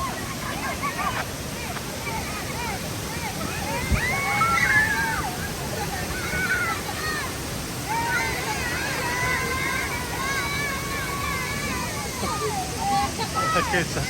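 Roaring water at Tinuy-an Waterfall, a constant broadband rush of falling water filling the scene, with children's voices and chatter rising intermittently above it.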